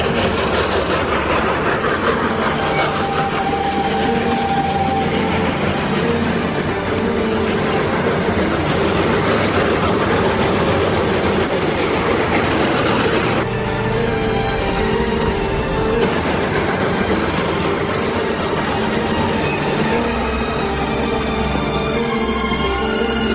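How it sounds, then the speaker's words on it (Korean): A train crossing a bridge, loud and steady throughout: a continuous heavy rumble of wheels and rail cars with rhythmic clatter and metallic tones, no voices. "그리고 승객을 태운 기차는 무사히 다리를 건너게 됩니다."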